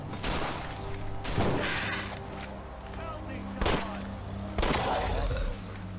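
Gunfire in Fallout 4 aimed at zombies comes as several loud, sharp shots in irregular bursts, with someone talking over and between them.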